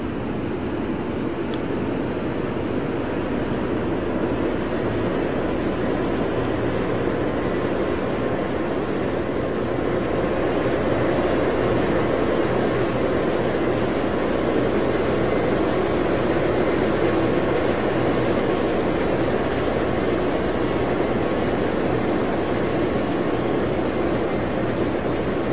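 An airliner, Continental 783, taking off in the air traffic control game Tower! 2011, a steady loud jet roar that holds for the whole stretch with a faint high tone early on and no voices.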